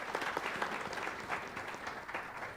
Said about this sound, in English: round of applause to Dr.